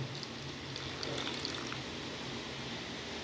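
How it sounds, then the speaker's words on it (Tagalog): Lukewarm water is poured onto Alaska powdered milk, a steady soft hissing stream of liquid running for a few seconds, quiet and continuous with no talking. "Tsaka medyo maligamgam na tubig para madaling matunaw."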